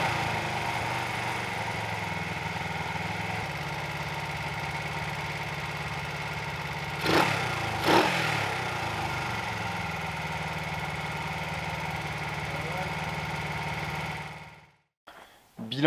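A Honda CB125 Twin motorcycle idles steadily on refurbished replacement carburetors, a close, even engine drone broken by a couple of brief throttle blips before it cuts off near the end.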